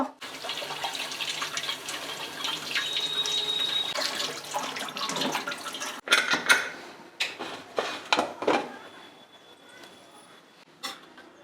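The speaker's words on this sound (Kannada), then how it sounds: "ಈಗ ಕೊಳಾಯಿ ಕೆಳಗಡೆ ಇಟ್ಕೊಂಡು ಇದನ್ನು ನೀರು" Tap water runs over a pressure cooker in a sink to cool it after cooking lentils, a steady splashing stream followed by clanks and knocks of the metal cooker being handled.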